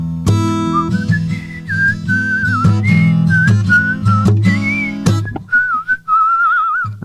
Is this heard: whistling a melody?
yes